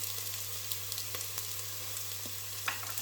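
Onions softened in a pan with garlic and ginger just added fry with a steady, faint sizzle, broken by a few light clicks of stirring throughout.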